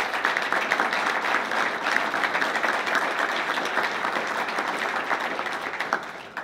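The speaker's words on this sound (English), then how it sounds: "the board could give another round of applause for that purpose" Audience members at a Penn State Board of Trustees meeting give a round of steady applause that carries on for several seconds and fades at the end.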